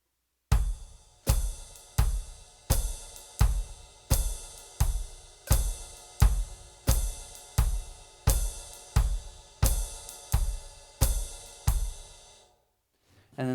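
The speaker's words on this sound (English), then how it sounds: "you want to start off by doing what's called feathering the kick, where you're going to just play really light quarter notes underneath" Light, even bass drum strokes feathered in steady quarter notes for a swing jazz groove, about sixteen soft thumps at a relaxed tempo, close and alone with no other instruments, ending in a brief pause.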